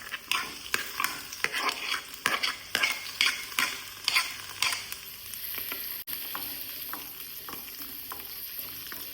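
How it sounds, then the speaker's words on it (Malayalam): Onion and tomato sautéing in oil for a fish curry: rhythmic scraping stirs of a spatula against the pan over a bright sizzle, easing into a quieter, steady fry after the stirring stops. "സവാളയും തക്കാളി എണ്ണയിലിട്ടൊന്ന് വഴറ്റിയെടുക്കാമേ."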